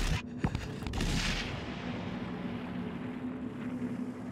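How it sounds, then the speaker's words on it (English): Muffled gunshots in the side-scrolling video game INSIDE, a couple of sharp cracks near the start followed by a low, droning ambient rumble that fades slowly. "So they shot me again now?"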